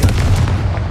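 A Confringo blasting spell explodes in a Harry Potter game, one deep, booming burst up close with a heavy low rumble that rolls on for the whole second.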